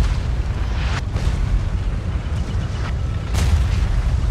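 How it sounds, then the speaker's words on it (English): Artillery bombardment in Napoleon: Total War, a battle between Great Britain and Portugal, rumbling as a steady low roar with several sharp booming impacts, one louder blast near the end, no talking. "So there's my bombardment."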